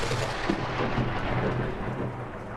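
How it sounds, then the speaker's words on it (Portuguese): Heavy thunder from a strong storm rolls in a continuous deep rumble with rain hiss, loud and steady throughout as a story sound effect. "Naquela noite de tempestade forte"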